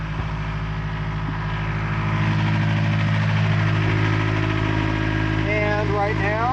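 Sailboat inboard engine running steadily at about 1600 RPM, a loud continuous droning idle with even mechanical vibration throughout and no talk over it.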